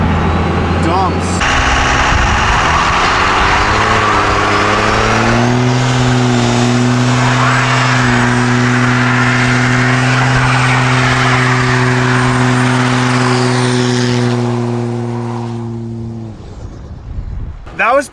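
A turbocharged car fitted with delivery valves does a two-wheel burnout, its engine droning loud and steady while the tires squeal continuously for about fifteen seconds before it cuts off.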